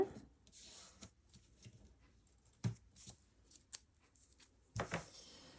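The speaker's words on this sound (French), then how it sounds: "Alors celui-ci se déchire à la main, pas besoin de ciseaux." Double-sided adhesive tape torn by hand while making a pop-up card, a quiet series of short crackling rips and rustles spaced over several seconds, close up.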